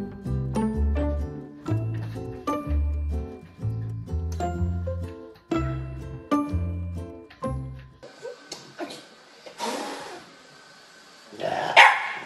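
A dog barks repeatedly in steady, evenly spaced bursts, loud and close, followed by scattered rougher yips and growly noises with no talking.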